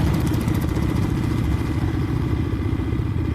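A 2025 Keeway SR 250 retro motorcycle runs close by, its engine giving a loud, steady low-pitched rumble with an even pulsing throb and no talking.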